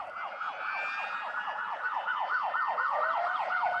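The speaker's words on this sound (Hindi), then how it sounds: "एम्बुलेंस थी सब गलत, उसको रोको" An ambulance siren wails in a fast, repeating up-and-down pattern, steady and fairly loud throughout without speech.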